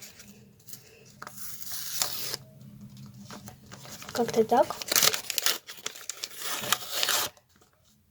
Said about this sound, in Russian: И открываем наш пакетик.